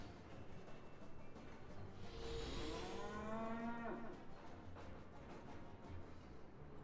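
A single drawn-out cow moo from the video game Sam & Max The Devil's Playhouse, clear and fairly close over a quiet hiss, rising and wavering before it cuts off.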